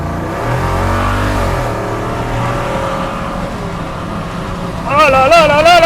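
Jeep Wrangler SRT392 V8 engine revving, a deep rumbling roar that rises and falls in steady pulses, heard up close and loud, with someone speaking excitedly over the engine toward the end.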